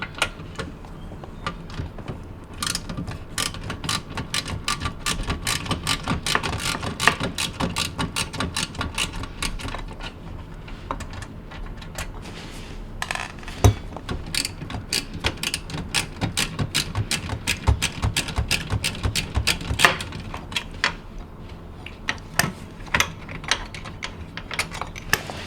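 Screws being backed out of a GE dishwasher inlet valve, dense clicking and ratcheting metallic ticks continuing steadily throughout, close and moderately loud.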